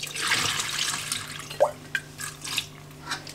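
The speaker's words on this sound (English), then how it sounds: "So I'm going to pour the water," Water is poured out of a pot while cleaning a burnt pan, a soft splashing trickle followed by a few faint drips and gurgles, quiet and close.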